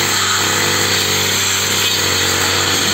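A child's mini brush cutter slicing through tall grass, its small engine giving a loud, constant high-pitched buzz with a rough, gritty edge, heard close and unbroken without any talking.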